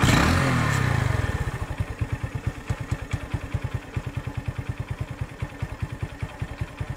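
A Honda Super Cub motorcycle engine starts with a brief whir, then settles into a steady, rapid putter at idle, even and fairly close with no voices.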